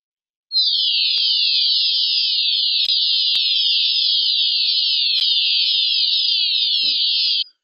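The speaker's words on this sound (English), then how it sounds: "So that's going to be our lava sound," Synthesized effect built from clustered rapid tonal notes, meant as lava: a steady shrill warbling buzz starts abruptly, holds at an even level for about seven seconds with a few faint clicks, then cuts off.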